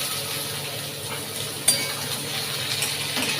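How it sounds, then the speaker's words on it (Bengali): Bitter vegetable frying in a wok with panch phoron, dried red chilli and onion, a steady close sizzle with a brief clink of a utensil partway through. "তো কড়াইয়ে আমি দিয়ে দিয়েছি 5 ফোড়ন, শুকনো লঙ্কা, বুঝেছো, আর একটু পেঁয়াজ দেব। এই দিয়ে ওকে ভাজবো।"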